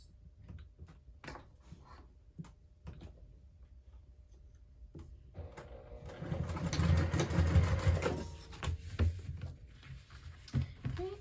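A sewing machine runs in a steady, moderately loud burst, stitching the lined-up centers of a crossbody bag after several seconds of quiet handling and small ticks.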